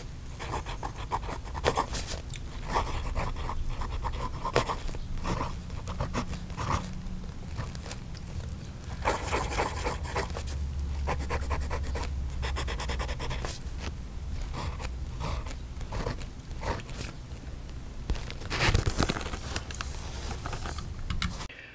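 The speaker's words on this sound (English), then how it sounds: "Listen to the nib on paper." A Wing Sung 670 fountain pen nib scratches and taps across paper in quick, uneven bursts, close and dry, with short pauses between strokes and no talking.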